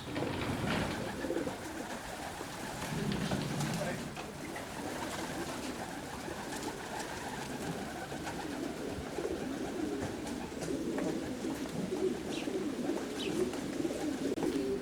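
Racing pigeons cooing inside a loft, repeated soft throaty coos overlapping at close range against a low background hum, with no talking.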